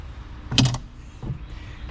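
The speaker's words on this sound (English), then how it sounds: "if you open up the dented back door" A dented back door on a machine, likely a compact track loader, is swung open with a single metallic clunk and creak, then a softer second knock, close and fairly loud with no talking.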